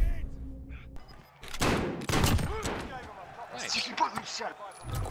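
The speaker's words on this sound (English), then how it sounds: "I'm being shot at." Rapid bursts of gunfire in the Call of Duty Warzone video game, with loud close volleys and fainter shots farther off, heard under intermittent player voices.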